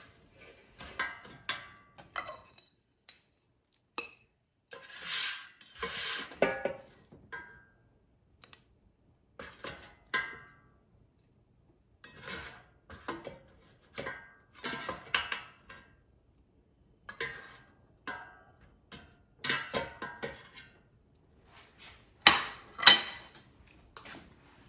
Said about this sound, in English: now let's take out the scrambled eggs from the air fryer and put them on a plate